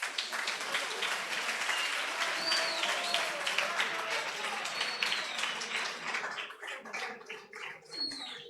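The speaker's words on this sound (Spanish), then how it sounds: "Os pido un aplauso muy grande cuando suban al escenario." Applause from an audience at a literary gathering with an illustrator as helpers go up on stage, clapping that thins toward the end, with voices and a few cheers mixed in.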